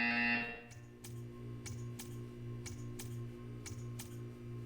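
In the Portal 2 test chamber, a short tonal burst gives way to a buzzer's sharp, evenly spaced pulses, roughly two per second, over a steady low electrical hum.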